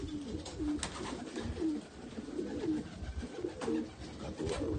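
Racing pigeons arriving at their loft after a 240 km race coo repeatedly at close range, in low soft rolling calls over a constant outdoor background.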